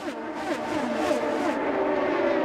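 IndyCar race cars on the second lap of the 100th Indianapolis 500 at Indianapolis Motor Speedway, engines droning at high revs as several cars pass close together in a steady, loud roar.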